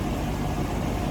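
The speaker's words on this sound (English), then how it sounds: "Hear how smooth that 307 runs." A 1983 Buick Riviera convertible's 307 V8 idles steadily and smoothly with the hood open, a close, even low rumble with no voices.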